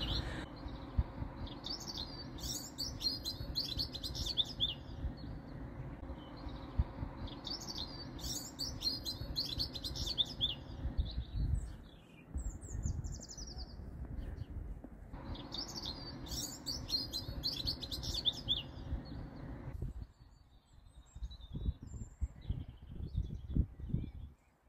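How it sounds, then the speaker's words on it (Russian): Several birds chirp and trill in repeated bursts of song outdoors on an evening hill near Cancale, Brittany, France, over a low rumbling background that drops away near the end. "Птицы поют"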